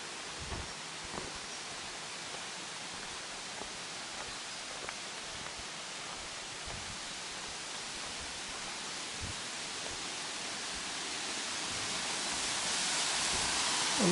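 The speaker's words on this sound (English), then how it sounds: "it sounds like we're going over a waterfall now" Jungle waterfall on a hike up Mount Kinabalu, a steady broadband rush of falling water with no talk, swelling louder toward the end.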